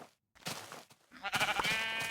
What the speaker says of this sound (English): Oh, look at all these sheep.